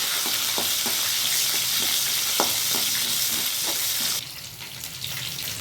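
Red chillies and urad dal fry in a hot pan with oil, a continuous close sizzle broken by small crackles and pops, easing off near the end.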